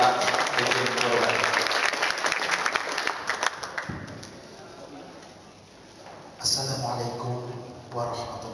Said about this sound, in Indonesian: Tepuk tangan untuk Pak Arifin Purba.